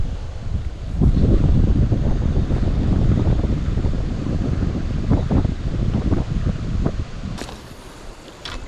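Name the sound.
strong wind blowing outdoors by a river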